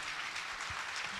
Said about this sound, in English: Round of applause for my panel.